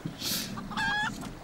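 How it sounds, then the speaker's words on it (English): A rooster in the video game Final Fantasy XIV lets out a short clucking crow with a bright rising tone, heard alone and at moderate loudness over a faint background hum. "He's a rooster, by the way, not a chicken. That's a rooster."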